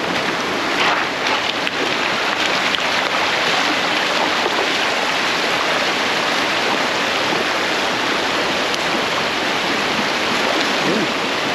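Strong steady rush of a flowing stream current, loud and close, a dense continuous wash with no breaks and no talk.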